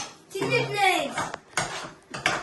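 Food being mixed in a pan during home cooking, with several scraping, clinking strokes of a utensil against the metal, close and moderately loud, alongside a person speaking.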